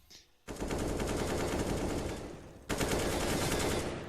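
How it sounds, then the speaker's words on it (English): Rapid automatic gunfire from a Counter-Strike: Global Offensive match at a professional ESL Pro League esports event, loud and sustained in dense bursts with a brief break before the firing resumes. "The wallbang, he knows Kicker wants him."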